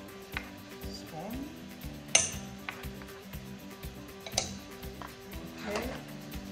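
A spoon knocks and clinks against a cooking pot while Haitian spaghetti with herring is prepared, sounding as several scattered light taps and one sharper clink, close and fairly quiet, with faint kitchen noise.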